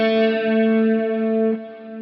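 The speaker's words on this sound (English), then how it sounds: "I'm going to play something without any vibrato on the guitar, a nice simple series of notes" Electric guitar playing a short, simple series of sustained notes without vibrato, a steady held tone with effects that fades slightly at the end, no talking.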